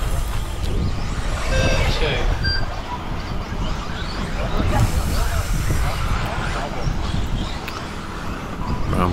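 Schumacher Cat L1R 4WD radio-controlled car racing at a club track, with a dense, continuous mechanical whine and buzz of motors under steady background chatter and crowd babble, plus a few short beeps.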